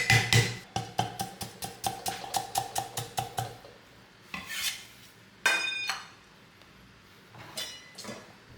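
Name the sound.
smashing and slicing ginger with a knife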